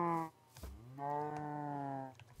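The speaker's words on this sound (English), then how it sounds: "Hello, cow." A cow in the video game Minecraft gives two drawn-out moos, the second longer and lower, close and clear with nothing else over them.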